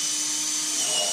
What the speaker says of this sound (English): Now I'm going to use my drill to drill at every intersection that I've marked.